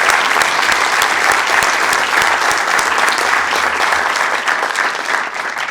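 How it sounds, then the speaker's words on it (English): A city council chamber audience gives a big round of applause, loud and steady, with many hands clapping in a dense wash that eases slightly toward the end. "I want to give them a big round of applause for always making our experience wonderful"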